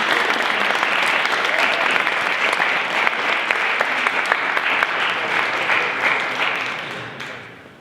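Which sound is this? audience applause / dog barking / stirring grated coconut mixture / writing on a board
audience applause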